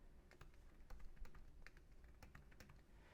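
Typing on a computer keyboard while entering a password, a quiet steady patter of key clicks over low background hum, with no voices.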